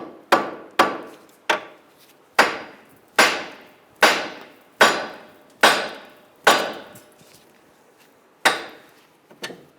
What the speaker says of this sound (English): All right, so now we're just going to tap this down